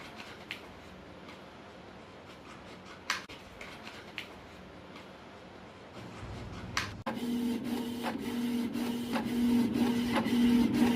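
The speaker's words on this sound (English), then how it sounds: "I could print only one page because my printer ran out of ink," A home printer clicks and ticks at a slow pace, then whirs into a louder, steady mechanical drone as it feeds and prints a page, with sharp clacks between passes and no voices.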